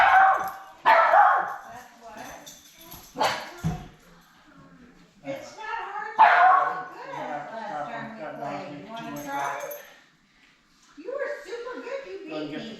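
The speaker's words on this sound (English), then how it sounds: "barking dog intrudes with the game" During an indoor memory card game, a dog barks and yips in several sharp bursts close by, breaking in over and between people talking.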